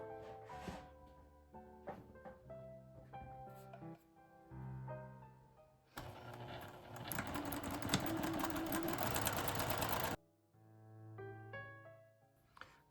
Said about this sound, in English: Now I'm just going to go ahead and stitch this with a back stitch in the beginning and then a back stitch at the end.